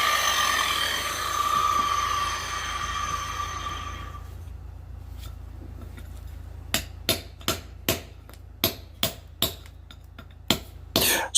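A pitching chisel is struck with a hammer against a block of Victorian sandstone, giving a series of sharp, fairly close hits at an uneven pace after a fading, humming drone.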